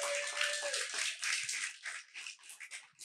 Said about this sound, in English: Let's give Sean another big round of applause